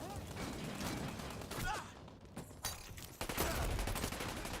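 Gunfire in the video game Dirty Bomb from a heavy-recoil gun, a dense run of sharp shots and bursts with loud action and faint voice underneath.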